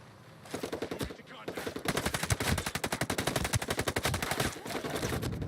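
Rapid automatic gunfire from a video game gun rattles out in dense bursts, loud and close, with brief pauses between strings of shots and no talk.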